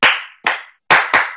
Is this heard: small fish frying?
no